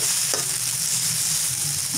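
Mixed fried rice sizzles steadily in a hot pan while being stirred, a loud continuous frying hiss close by with faint scraping and no talking.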